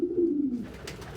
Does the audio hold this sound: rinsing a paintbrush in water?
no